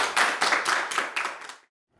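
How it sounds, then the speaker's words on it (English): A small group claps for about a second and a half, a dense run of hand claps that cuts off abruptly into silence. "Give yourselves a round of applause."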